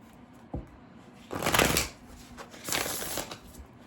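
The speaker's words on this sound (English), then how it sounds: "First, I'm going to pull an oracle card from the Earth and Bone Oracle." Oracle cards being shuffled and pulled from a deck, two close, crisp riffling bursts of card noise separated by a brief pause, with a single small tap beforehand and no talking.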